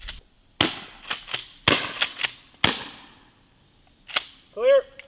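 Prototype seed-shell rounds loaded with acorns are fired from a gun into the ground outdoors, giving a run of sharp, loud cracks in irregular bursts, roughly eight reports over five seconds, with a short voice sound at the end.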